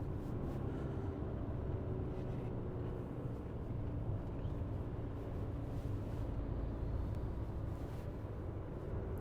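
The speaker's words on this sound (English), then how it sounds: "A lot of traffic around today." Road traffic passes at a distance, a low steady rumble and wash of vehicles with no distinct pass-bys, faint and continuous throughout.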